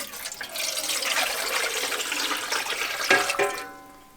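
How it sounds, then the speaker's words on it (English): Two to three quarts of water poured into a pressure canner packed with pint jars of sockeye salmon, a steady close splashing gush that runs about three and a half seconds, then stops and fades. "then we add 2 to 3 quarts of water"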